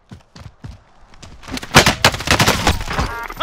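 Rapid bursts of gunfire in a multiplayer shooter game, a few scattered shots at first and then a dense, loud fusillade of overlapping rounds.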